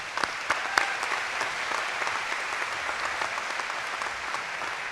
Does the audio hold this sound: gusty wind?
no